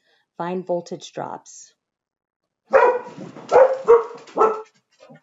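A dog lets out a quick run of close, sharp barks, then falls quiet before a person starts talking.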